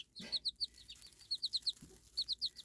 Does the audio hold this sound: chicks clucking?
yes